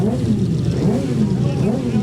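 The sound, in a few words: racing motorcycle engines in race paddock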